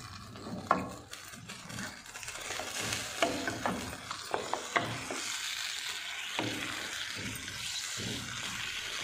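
Mutton karahi frying in a pan, steady sizzle with scraping and stirring clatters from a utensil, close and continuous without talk.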